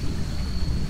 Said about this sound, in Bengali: অনবরত মুষল ধারায় বৃষ্টি পড়ে চলেছে